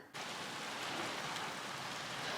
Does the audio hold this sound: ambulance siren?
no